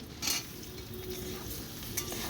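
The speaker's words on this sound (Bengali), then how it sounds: "এর মধ্যে এবার দিয়ে দেবো বেগুন" Eggplant sautéed with green chilies and spices in a pan in a Bengali village kitchen, a steady soft sizzle with scraping stirs and a couple of brief clinks, fairly quiet and close.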